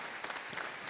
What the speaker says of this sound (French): on peut vous applaudir pour cet engagement et cette volonté